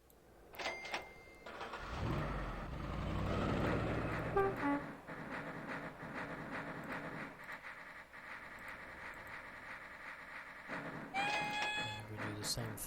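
A rumbling train in OpenTTD rolls along with a rising mechanical whine, horn-like tones briefly sounding near the start and end, with faint voices underneath.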